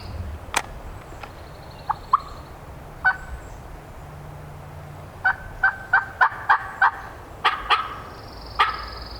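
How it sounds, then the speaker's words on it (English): A wild turkey gobbles repeatedly in the spring woods of Georgia public land, several rapid rattling calls sounding at a moderate distance, plus a few sharper call notes against quiet outdoor background, with no talking. "I get the call and a bird gobbles like"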